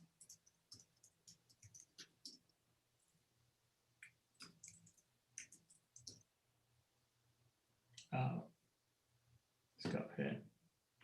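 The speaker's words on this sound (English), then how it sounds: "the typing" Rapid light keystrokes on a computer keyboard, with scattered clicks early on and two louder bursts of typing near the end, close and dry in a quiet room.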